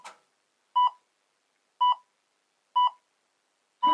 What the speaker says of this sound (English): We have a nice red warning saying that we've gone past the timer, beeping and vibrating.